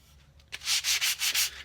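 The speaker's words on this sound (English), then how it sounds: "I'm going to work my way up to higher and higher grit sandpaper" Hand sanding the back of a wooden cigar box guitar with sandpaper, five rhythmic rasping strokes following a short quiet start, close and steady with no talking.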